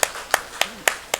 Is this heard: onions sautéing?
no